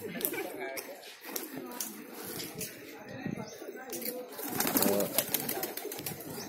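Pigeons coo inside an earthen loft in Bhopal, soft repeated low calls scattered across the clip, with someone talking over them and occasional rustling and wing flutters nearby.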